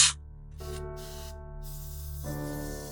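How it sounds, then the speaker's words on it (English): Air blower puffs clean dust from a Lipca Rollop Automatic TLR camera: a sharp burst of air at the start, then softer repeated hissing puffs close to the microphone over a faint steady hum. "I continued to blow out both the front and rear of the camera"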